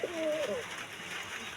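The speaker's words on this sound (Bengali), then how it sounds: "ফাইনালি আমার দেশি কবুতরের যে জোড়াটা এখানটায়" A native desi pigeon gives a single soft cooing call at the start, close and faint over a steady background hiss, followed by quiet.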